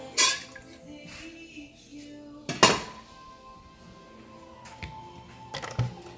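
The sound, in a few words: draining boiled eggs from a pan into a colander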